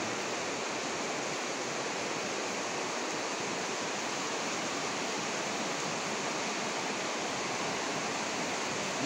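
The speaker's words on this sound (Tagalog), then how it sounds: "Katamtaman lang po yung ulan." Steady, dense hiss of tropical-depression rain falling continuously at an even, moderate intensity, with no pauses or voices.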